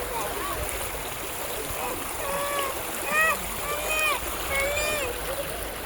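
River water flowing steadily at a clear, shallow bathing spot, a constant rushing wash with voices talking over it.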